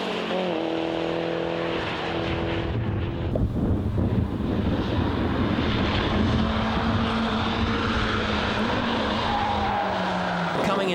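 A turbocharged Honda and a Mazda race hard on a track, their engines roaring loudly and continuously with rising whining tones and bursts of tire squeal under braking and cornering.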